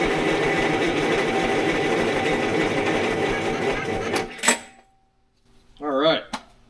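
A 487 hp Detroit Diesel 6V92 fire pump engine cranks on weak batteries, a loud, dense rhythmic churning for about four seconds that then cuts off. A brief voice follows near the end.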